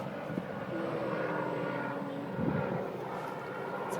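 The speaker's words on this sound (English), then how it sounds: "there's a helicopter" A helicopter passes overhead outdoors, a steady, moderately loud rotor and engine drone filling the whole stretch with a slight swell midway, no talk over it.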